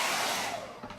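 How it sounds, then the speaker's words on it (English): A hair dryer blows with a steady, loud whooshing hiss and motor whine, running continuously at close range. "I've got to grab my hair dryer because this is gonna take all day"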